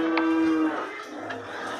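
Recorded cow moo used as an animal sound effect during a children's book reading, a single drawn-out low bellow that fades, fairly faint, with no talking over it.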